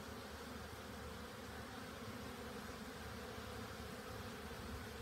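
A dense swarm of honey bees flies around hives in an apiary, a steady, loud buzzing hum that fills the whole stretch without pause and carries no voices.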